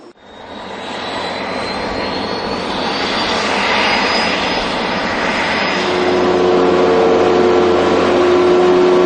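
A small fixed-wing airplane's engine drones steadily for several seconds, close and loud, its pitch slowly rising as power builds, with no voices.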